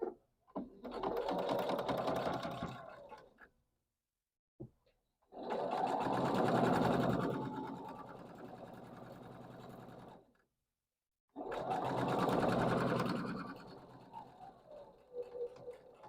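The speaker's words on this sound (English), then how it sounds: "I'm going to sew these two together." Sewing machine stitching two quilt pieces together, running in three long bursts of steady whirring with short pauses between, close and loud.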